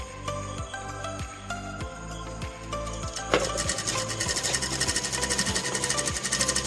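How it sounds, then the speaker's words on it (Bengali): A sewing machine stitches a pillow cover, its needle thumping in slow regular strokes at first and then speeding into a fast, even rattling run, loud and close. "এবার এদিকে সেলাই করে নেব"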